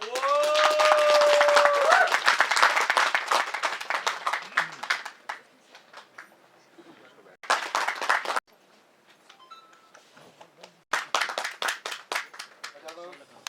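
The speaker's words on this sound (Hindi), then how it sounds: "मिलिंद स्वामी जी, एक जोरदार ताली" At a film trailer launch, an audience applauds a producer in loud bursts of clapping mixed with voices and cheers, dropping away in quiet gaps before flaring up again.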